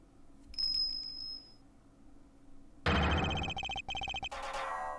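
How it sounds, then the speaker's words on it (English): A bell rings in the video game Ace Attorney Investigations 2: a brief high chime first, then loud, rapid, metallic ringing that comes in at mid-clip and keeps going in bursts to the end. "That sound, is that a bell?"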